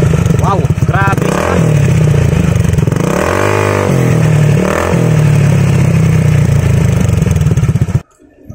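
A Honda ADV 160 scooter with a Yoshimura R77 exhaust fitted with a silencer, revved close up in several rising and falling bursts over a steady idle, with voices talking over it before it cuts off.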